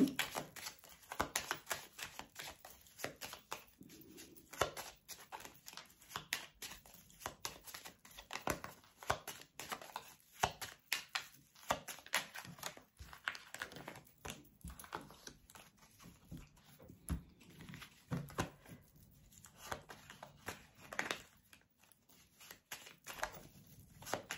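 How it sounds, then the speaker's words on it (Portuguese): A deck of fortune-telling cards is shuffled over and over, rapid riffling and flapping bursts close by, with no voices. "vamos embaralhar bem"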